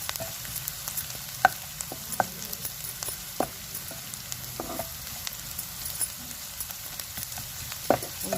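Poha sizzles and fries in a nonstick pan over a medium flame, with a steady soft crackle running throughout and scattered scraping clicks as it is stirred, close and fairly quiet, with no one talking.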